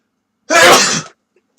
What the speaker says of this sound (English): sorry guys, I'm going to sneeze.